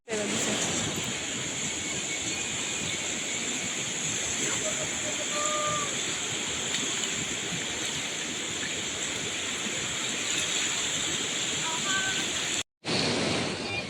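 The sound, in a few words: fast-flowing river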